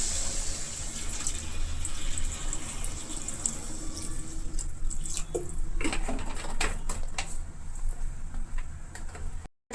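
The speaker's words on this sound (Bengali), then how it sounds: "এবার পরিমাণ মতো জল দিয়ে দেব" Water is poured into a pot of egg and potato curry, a steady splashing pour running continuously for several seconds before cutting off abruptly at the end.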